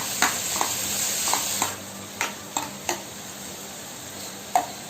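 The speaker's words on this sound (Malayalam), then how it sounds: "പഞ്ചസാര ചേർത്തിട്ട് നന്നായിട്ടൊന്ന് വഴറ്റി കൊടുക്കുക." Curry base for Chettinad chicken curry being sautéed with a teaspoon of sugar in a pan: a steady sizzle under repeated sharp scrapes and knocks of a spatula stirring, loud and close, with no voices.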